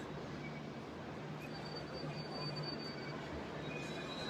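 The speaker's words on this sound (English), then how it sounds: "There's the metro trains leaving." A Melbourne metro train pulls out of the station at night, a steady rumbling rail roar with faint wheel squeals, heard at a moderate distance and fairly quiet overall.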